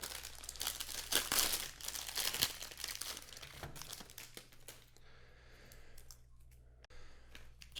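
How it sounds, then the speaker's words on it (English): Crinkling plastic candy wrappers for gummy hot dogs and tacos being torn open along an easy-tear strip, loud crackling up close at first and then quieter rustling and handling. "I just realized they have an easy tear section here"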